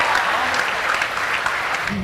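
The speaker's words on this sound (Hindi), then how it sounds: "एक बार जोरदार तालियां।" An audience claps loudly at a Hindi poetry performance devoted to Krishna. The applause is a thick, continuous burst lasting about two seconds at a steady level.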